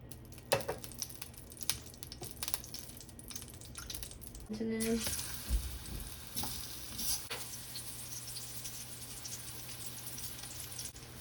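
Plantain slices fry in a generous layer of oil in a pan, giving a steady close sizzle with scattered clicks and scrapes as the pieces are shifted and turned.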